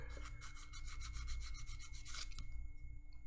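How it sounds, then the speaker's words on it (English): Steady rapid rasping strokes of a sanding stick rubbing back and forth on lumber during a shed build, close and rhythmic, ending with a final scrape. "I'm going to be using the sanding stick"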